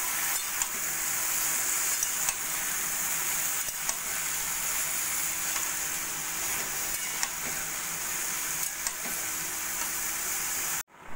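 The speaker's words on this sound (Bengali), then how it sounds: "এবার আস্তে আস্তে করে সব লাউটাই মশলার সঙ্গে মিশিয়ে নেব।" Bottle gourd pieces being stirred with spices in a pan give a soft, continuous sizzle with faint periodic scraping, fairly quiet and steady, no voices.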